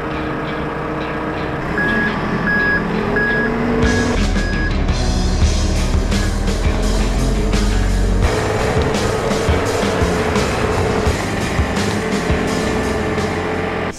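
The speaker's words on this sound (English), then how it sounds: "Borrowed this forklift from work." A borrowed forklift rigged to pull the bed off a Dentside Ford truck gives steady, loud reversing beeps over a continuous engine and machinery rumble, with no talking.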